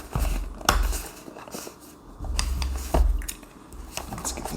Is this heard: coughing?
no